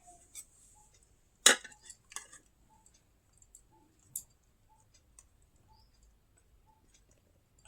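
Utensils clink faintly against a bowl while rice is served, giving a few sparse, light clicks and taps with one sharper clatter. The pauses between them are quiet.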